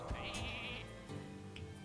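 A single sheep bleats in the Hearthstone card game after a minion is polymorphed, a short wavering cry up close followed by a quieter second bleat and game background sounds.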